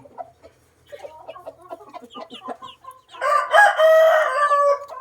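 A few soft clucks and chicken murmurs give way to a loud, close crow from a Burmese gamecock rooster that fills the last couple of seconds.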